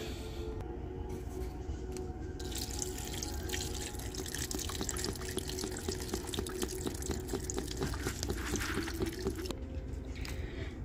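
Chicken stock and water poured from containers into a cooking pot, a continuous soft splashing stream that runs for several seconds with faint clinks, fairly quiet and with no talking.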